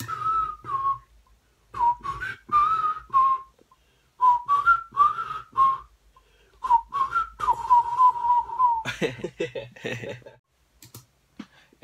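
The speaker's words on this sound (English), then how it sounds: "having recorded the whistle, as you've heard" Close whistling of a short melody in phrases, followed by a burst of clicking and rustling handling noise near the end.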